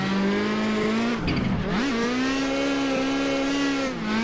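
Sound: drift car revving and drifting at Irwindale track

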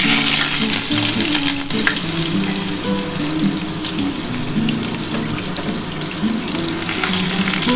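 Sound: onion frying in hot oil for chicken kosha

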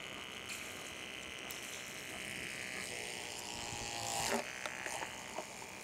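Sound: 12-volt water pump switched on and running

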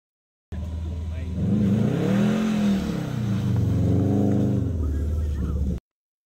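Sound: Subaru tires slipping in snow with traction control

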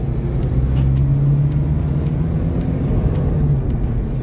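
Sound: car driving along a road

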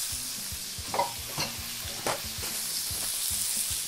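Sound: bacon sautéing in a hot pan with oil

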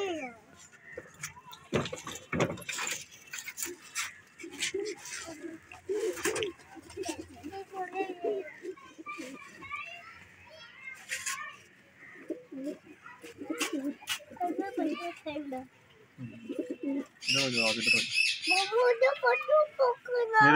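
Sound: pigeons cooing

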